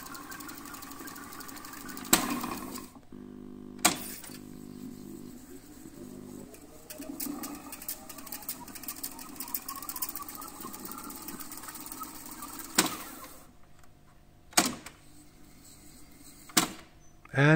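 A Revox G36 reel-to-reel tape recorder winds in fast forward with a steady motor hum and tape whir that rises in pitch. Sharp mechanical clicks from the transport controls break in several times.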